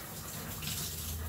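Water pours and splashes steadily in a home shower where a husky is bathing with its owner, a continuous close hiss of spray with no pauses.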